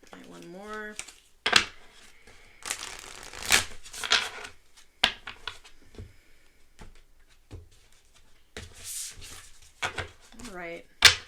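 Light Seers Tarot cards being shuffled in several loud bursts of riffling and flicking, separated by quieter pauses. Short vocal sounds are heard near the start and at the end.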